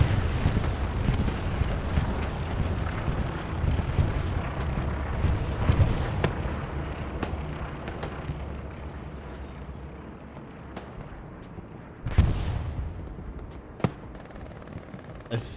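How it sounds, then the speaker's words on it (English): Bombing-run explosions in the World War II game Hell Let Loose boom in a dense, rumbling barrage, with sharp blasts and distant gunfire cracks that fade gradually before a few final loud hits. "Syndicate bombing run."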